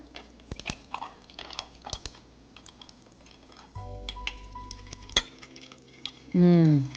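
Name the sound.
ice cubes added to a tea latte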